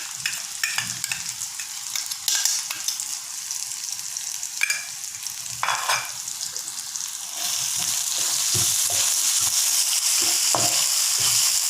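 Crushed pepper tossed into a hot pan for black pepper chicken gives a close, crackling sizzle with stirring scrapes, which swells into a louder, steady hiss partway through.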